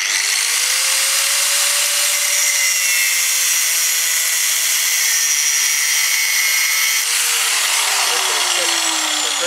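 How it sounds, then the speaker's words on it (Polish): An angle grinder cuts slowly through a metal workpiece, a loud continuous whine with a steady pitch that sags toward the end as the disc slows, close by for nearly ten seconds with no break. "I teraz będę sobie szlifierką powoli przecinał."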